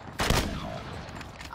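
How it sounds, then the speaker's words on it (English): Sniper rifle shots ring out in a three-on-three snipers-only video game gunfight: a loud, sharp report with a decaying tail, followed near the end by the onset of another loud shot. "Love how none of those shots hit."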